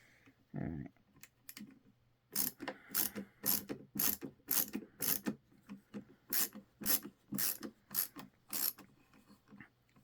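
A Milwaukee ratcheting screwdriver drives a screw into wood, first with a soft handling noise and then a quick run of sharp, evenly spaced ratchet clicks, close and clear.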